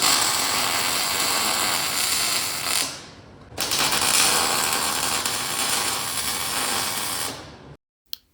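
A welder tacks a metal plate onto the disc brake assembly of a homemade buggy with steady crackling, hissing bursts that run loud and close, break briefly near the middle, then resume and stop abruptly, followed by a single sharp click.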